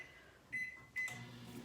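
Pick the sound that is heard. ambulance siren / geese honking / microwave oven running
microwave oven running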